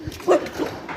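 A single short dog bark, close and brief, with a small yip around it.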